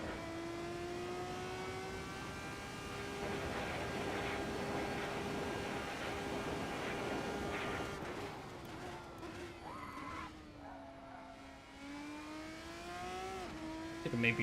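A race car engine in the Assetto Corsa racing game holds a steady high whine with clear harmonics, then shifts and revs up and down through gear changes toward the end, with occasional faint talk underneath.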